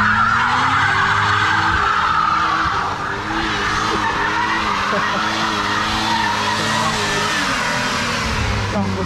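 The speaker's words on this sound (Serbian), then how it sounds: "sad ćemo da probamo malo neki drift" Mercedes 190 2.6 six-cylinder drifting, its tires skidding and squealing loudly and continuously with the engine roaring underneath for the full stretch.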